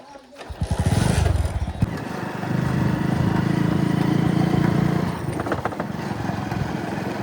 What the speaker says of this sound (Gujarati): પપ્પો બાઇક ચાલુ કરે છે